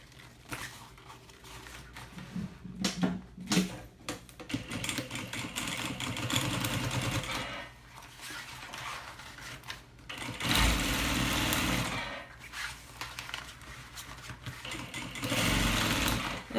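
Sewing machine stitching a seam on a small thermal bag lined with insulating fabric, whirring in several short and longer bursts with uneven pauses and light handling rustles between.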